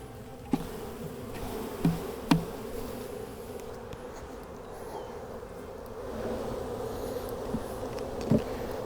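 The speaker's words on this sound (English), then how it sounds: "I've got a bunch of bees that are down in that box" Honey bees buzz steadily around an open hive box while it is split and frames are moved, a continuous close insect drone with a few brief knocks and clunks from handling the equipment.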